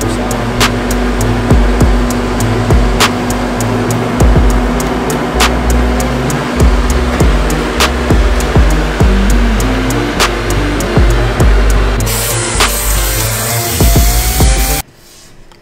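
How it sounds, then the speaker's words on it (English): CNC plasma table cutting sheet metal for a Miata kart gauge cluster: loud continuous hissing roar with regular sharp ticks, running steadily before cutting out abruptly near the end. "So it's over to the CNC machine, to the plasma table."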